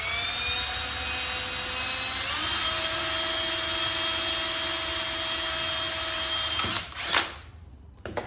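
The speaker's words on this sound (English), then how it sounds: "So let's get to drilling." A power drill whines steadily at high speed while boring a hole into a part of a Shovelhead chopper, its pitch stepping up briefly before spinning down and stopping near the end.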